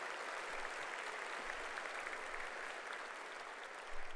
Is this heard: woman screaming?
no